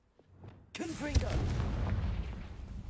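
A Confringo fire spell is cast in a video game, hitting with a sudden loud burst that rolls into a sustained, rumbling roar, while a voice talks over it.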